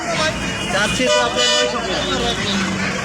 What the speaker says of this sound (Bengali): গাড়ি আসছে